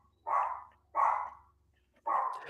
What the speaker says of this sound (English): That really sounds like a vicious cop dog.